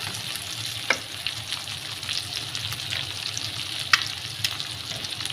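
Curry leaves fry in a pan with a close, continuous sizzle, broken by a few sharp spatters and a stirring scrape, and no one talks.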